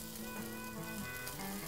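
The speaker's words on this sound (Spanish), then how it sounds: "dejamos que se vaya cocinando nuestro huevo, nuestra mezcla" An egg mixture cooks in a pan with a steady, soft sizzle and fry crackle, close but low in level, while faint tonal background sounds run underneath without talking.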